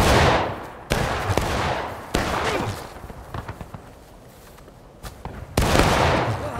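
Musket gunfire in the War of Rights Civil War video game: repeated loud, sharp volleys and scattered single shots cracking near and far, with a lull in the middle before another close blast near the end.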